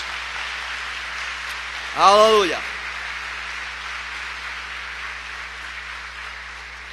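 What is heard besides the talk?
congregation applauding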